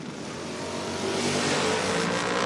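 A Mopar hot rod on a drag strip roars on a run, its engine note building and growing louder over a couple of seconds, a broad, rising mechanical howl with no voices.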